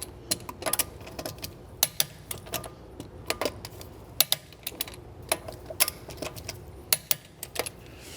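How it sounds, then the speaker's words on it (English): A torque wrench set to 90 foot-pounds tightens wheel lug nuts on a 2003-2007 Mercedes-Benz W203 C-Class, producing sharp, irregular ratchet clicks in quick bursts over a quiet garage background. "I have this torque wrench set to 90 foot-pounds or 122 Newton meters. Always tighten them in a star pattern whenever possible."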